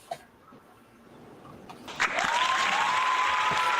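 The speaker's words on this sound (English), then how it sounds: "We need like a shorter clap for that" A recorded applause effect played during a game night swells in after a soft lead-in and holds as a long, loud burst of clapping that runs to the end.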